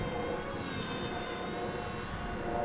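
A RocHobby Swift delta wing RC racer plane whines steadily overhead, a continuous high-pitched motor drone that stays loud and even throughout.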